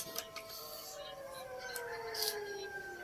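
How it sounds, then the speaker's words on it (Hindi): A faint siren wails far off in a village, its tone gliding slowly downward over a quiet background. "सायरन की आवाज आ रही है जी"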